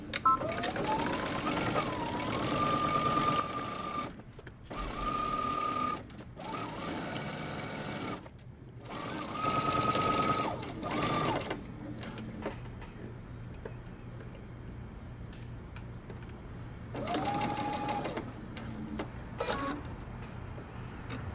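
A sewing machine stitches the neck of a jumpsuit in several bursts of rapid whirring, separated by pauses, with a quieter hum and handling in the gaps; the bursts are close and fairly loud.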